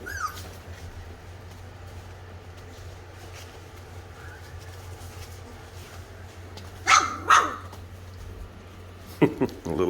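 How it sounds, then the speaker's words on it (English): A small dog gives a few quick, high yips partway through and again near the end, over a quiet background hum with faint murmuring. "A little bark there."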